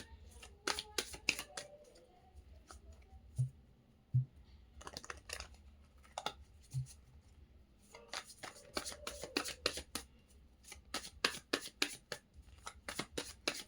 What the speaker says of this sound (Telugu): సో, లాస్ట్ షఫుల్ అండి